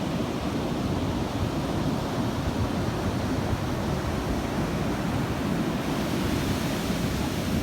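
Ocean surf at Ocean Beach, California, rushes in a steady, dense roar of breaking waves and wash, loud and continuous with wind mixed in and no voices.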